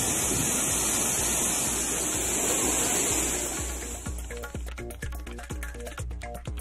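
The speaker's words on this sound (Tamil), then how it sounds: "தேனி மாவட்டம் கும்பகரை அருவிக்கு நீர்வரத்து அதிகரிப்பு." Kumbakkarai Falls in Theni district, swollen with increased water flow, roars as a dense, steady rush of cascading water, with rhythmic news background music rising over it partway through.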